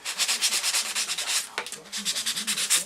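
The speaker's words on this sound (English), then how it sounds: "I'm pushing the paper and sanding it off at the edge where it meets the wood." Sandpaper rubs back and forth against the paper-skinned edge of a balsa wood fin in quick, even strokes, a close rhythmic scratchy rasp with a brief pause midway before resuming.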